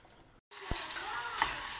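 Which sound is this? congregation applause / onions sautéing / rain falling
onions sautéing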